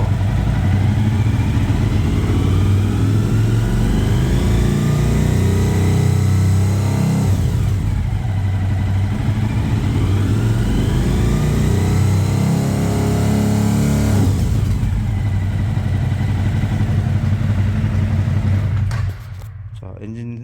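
A car engine revs up and holds at high RPM, its pitch rising and falling twice before dropping back to a lower idle near the end.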